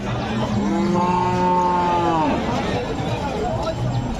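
Pregnant Friesian cows low loudly at a busy cattle market in Dupchanchia, one long rising and falling moo over steady crowd murmur.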